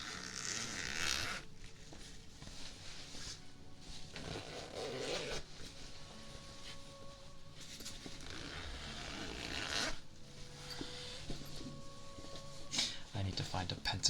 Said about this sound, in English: Wait, it sounds like a zipper?